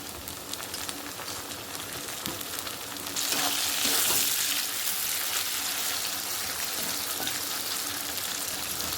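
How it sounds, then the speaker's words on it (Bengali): Tomato paste fries in oil in a pan with a dense, close sizzle that swells louder partway through and stays strong, with faint stirring clicks and no talking. "টমেটোটা পেস্টটা সুন্দর করে ভাজা হয়েছে"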